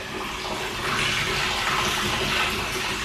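Water from a 3/4 inch ram pump gushes into a tank at a hog farm, a loud continuous rushing roar that swells slightly in surges as it fills.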